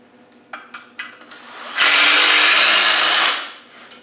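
A power tool drives a flange-headed bolt into an engine during an engine replacement, with a few short clicks first and then one loud, steady whirring run of about a second and a half that cuts off sharply.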